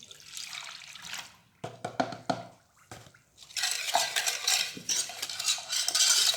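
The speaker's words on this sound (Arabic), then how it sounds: "نخلطو مزيان على البارد." A milk mixture for a cheesecake base being whisked in a bowl, with rapid clinking and swishing of a utensil against the sides, a brief pause of scattered taps, then steady vigorous stirring again, no voices.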